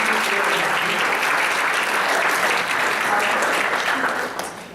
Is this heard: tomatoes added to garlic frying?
no